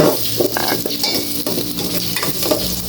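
Garlic sautéing in hot cooking oil, a steady close sizzle with stirring scrapes and light utensil knocks against the pan throughout.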